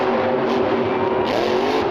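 The Grave Digger monster truck spins donuts in an arena, its engine roaring loud and sustained with shifting pitch as tires churn and skid, continuous throughout with no talk.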